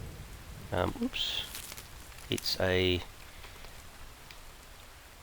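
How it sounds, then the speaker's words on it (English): Steady rain falls during a thunderstorm in the survival game The Infected, a constant soft hiss throughout, with someone talking briefly over it; no distinct thunderclap stands out. "rainy thunderstorm."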